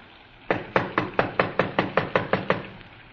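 Knuckles rapping on the door of a small redwood house, about eleven sharp, evenly spaced knocks in a quick steady run, close and loud, with no voices.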